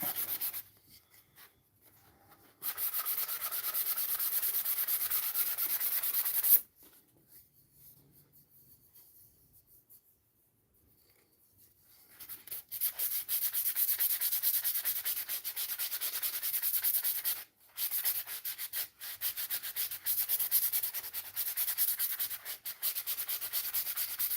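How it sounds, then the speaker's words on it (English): Wood being sanded by hand into fine sawdust, close rhythmic scratchy strokes in long bursts separated by short pauses of near silence. "all this fine sawdust that I'm making"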